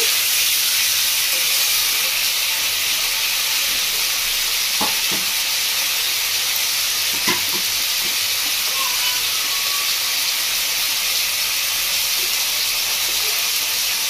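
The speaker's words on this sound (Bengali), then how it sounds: "টমেটোগুলো দিয়ে আমি হালকা করে নাড়িয়ে নেব।" Tomatoes for a tomato chutney sizzle in a pan as a loud, steady hiss lasting well over ten seconds, with occasional faint knocks of a spoon stirring them.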